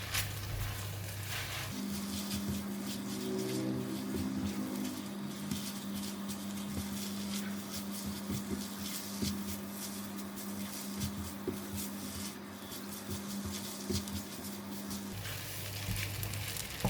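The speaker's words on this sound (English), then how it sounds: "now I'm going to stir fry it." Garlic and chicken fried rice stir frying in a hot pan, a steady crackling sizzle with scattered patter and scraping that runs throughout, alongside a constant humming tone from a kitchen appliance.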